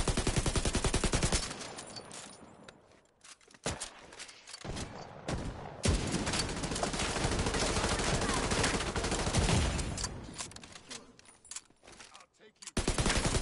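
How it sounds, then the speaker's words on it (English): Light machine gun fire in the video game Division 2, long loud sustained bursts with brief gaps, under occasional talk. "This guy has a light machine gun, shit."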